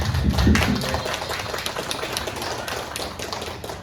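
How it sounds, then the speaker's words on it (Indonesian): An audience claps at an Indonesian presentation, a dense, fairly loud patter of many hands that holds steady for several seconds and thins slightly toward the end. "Jadi tepuk tangan untuk kita semua."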